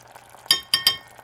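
A spoon clinks sharply three times against a pot of butter chicken curry as sour cream is scooped in, with soft background hum between the bright metallic taps.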